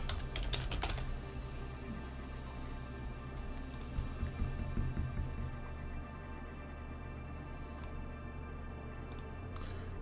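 Keyboard shortcuts tapped out on a computer keyboard during a digital dinosaur drawing session, steady soft clicks and keystrokes close by over a low background hum, with no talking.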